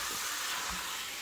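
Ground beef browning in a pan, a steady quiet sizzle and hiss running throughout with no talk.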